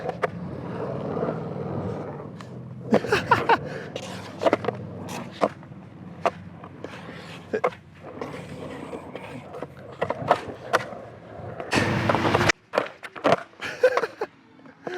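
Wheels roll and a Waltz 8.75-inch freestyle deck clacks through a skate session, with sharp board impacts and pops, a loud crash near the end, and a person talking intermittently.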